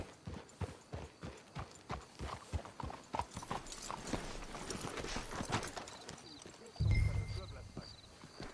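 In Red Dead Redemption 2, horses' hooves clip-clop in a steady walking rhythm, close and clear. Speech runs over the hoofbeats before a louder thud near the end.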